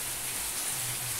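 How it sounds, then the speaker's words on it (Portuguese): Steady rain falling in Vila Cascudo, Icó, Ceará, a dense even hiss of drops on surfaces, close and unbroken. "chuva boa aqui na Vila Cascudo e Icó"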